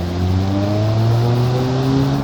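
A car with a 1.9 engine in BeamNG Drive accelerates hard in second gear, a steady rising engine drone with climbing harmonics, loud and close throughout with no talk.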